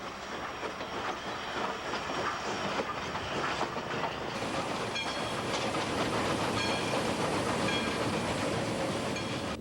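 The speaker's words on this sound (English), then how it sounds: "We've brought back our old steam locomotive, so you can ride the same route our working steam lokies ran almost a half a century ago." Old steam locomotive hauling cars along a logging railway through forest on North Vancouver Island, a steady dense rumble of rolling wheels and rail clatter with hissing, loud and continuous throughout.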